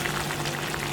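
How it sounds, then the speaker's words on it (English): Water rinsed from a ketchup bottle pours into a pan mixture for Jamaican-style sweet and sour chicken, a steady close bubbling, sizzling wash with no pause across the short stretch. "I add some water to the ketchup bottle and rinse it out, and I'm going to pour it"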